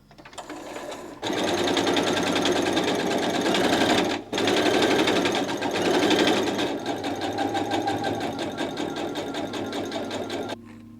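A sewing machine runs rows of gathering stitches on balloon pants, a loud, fast, steady whir close by that pauses briefly twice and stops near the end, with no talking.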